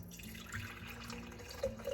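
Liquid trickles steadily from a pitcher through a small strainer into jars, a soft continuous pour with a few faint drips near the end, close by and quiet.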